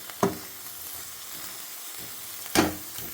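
Mackerel (bangude) masala frying in a pan, a soft steady sizzle with two sharper spattering bursts as the fish is stirred or moved, close and fairly quiet.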